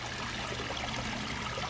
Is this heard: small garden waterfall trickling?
yes